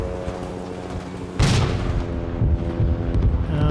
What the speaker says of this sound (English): Cook the grenade now. Throw.